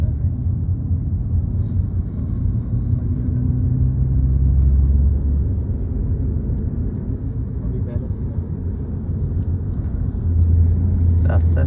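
Car cruising along a desert road, a loud continuous low engine and road rumble heard from inside the vehicle, with people talking over it.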